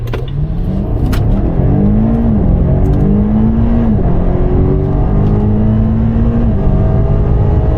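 BMW M5 engine revving hard and accelerating on the North Palm Circuit skid pad, loud and close, with rising and falling pitch sweeps as the driver repeatedly gets on the throttle at the limit of the rear tires.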